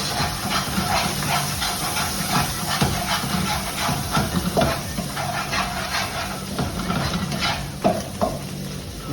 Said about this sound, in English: और इसको आप तकरीबन 30 सेकंड से 1 मिनट तक जो है वो भून लें